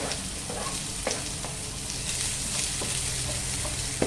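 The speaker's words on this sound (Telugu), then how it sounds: "బ్రౌన్ కలర్ వచ్చే వరకు అలా ఫ్రై చేయాలి. చూడండి, బ్రౌన్ కలర్లో వేగిపోయింది ఉల్లిపాయ ముక్కలన్నీ" Chopped onion pieces fry in hot oil until brown, a close, continuous sizzle with scattered crackles and occasional stirring knocks, no voices.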